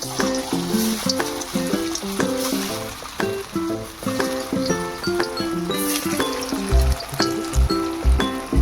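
Whole spices such as cinnamon and cumin seeds fry in hot oil in a kadai, giving a steady crackling sizzle close up, with clinking and stirring taps over a musical backing.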